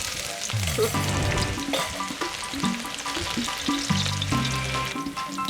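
Onions fry in oil in a pan over medium heat with a steady, close sizzle and crackle, while clanking and scraping in the background keep the kitchen busy.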